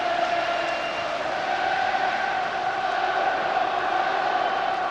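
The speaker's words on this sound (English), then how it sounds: "the crowd there, still in full voice" Large football crowd at the 1997 Scottish Cup Final between Kilmarnock and Falkirk, a steady sustained roar of singing and chanting filling the stadium, continuous and dense.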